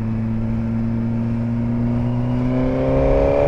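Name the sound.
Suzuki GSX-R 1000 motorcycle engine with Akrapovic exhaust overtaking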